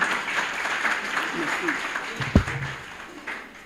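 A formal ceremony audience applauds to welcome a speaker, a moderate wash of clapping under a voice and a brief knock, tapering off toward the end.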